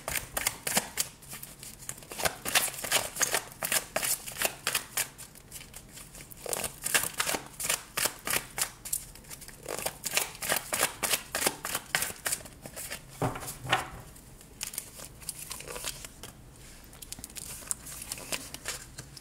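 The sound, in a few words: shuffling tarot cards for a reading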